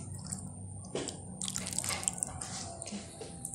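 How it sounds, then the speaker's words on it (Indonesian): Shrimp broth poured over tekwan fish balls in a bowl, close-up splashing and dripping liquid with a few small clinks, sound rising as the pour begins. "Sekarang kita siram dengan kuahnya tadi. Ini ada kaldu udang."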